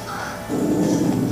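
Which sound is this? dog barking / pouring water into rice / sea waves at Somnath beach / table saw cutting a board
dog barking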